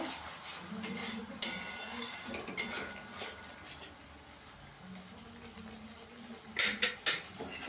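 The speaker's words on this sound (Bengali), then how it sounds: "দিয়ে একটু ভালো করে কষিয়ে নেব।" Poppy seed and almond paste stirred in a pan, with quiet scraping and sharp clinks of a metal spoon against the pan spaced through a fairly faint background.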